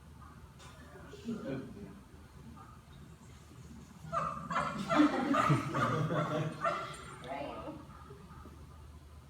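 A dog barking repeatedly in bursts, fairly close, with a cluster of rapid barks near the middle, while a person talks intermittently.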